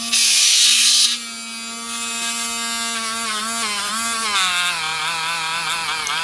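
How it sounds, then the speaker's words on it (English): A Dremel rotary tool polishes a Blind Horse knife blade, its motor giving a loud, steady high whine with a gritty burst of contact at the start and a pitch that sags slightly under load. "this is a pretty crappy Dremel"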